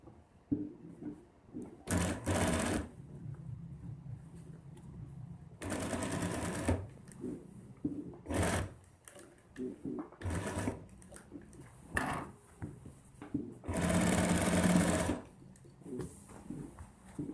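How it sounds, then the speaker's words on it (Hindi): A sewing machine stitches the collar of a designer kurta in several separate bursts, each a rapid close mechanical whirr lasting about half a second to a second and a half, with quiet pauses between them. "इसी तरह हमने दोस्तों अब कॉलर की भी सिलाई लगा लेनी है।"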